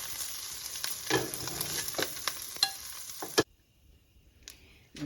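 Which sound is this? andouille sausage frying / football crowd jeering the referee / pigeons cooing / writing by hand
andouille sausage frying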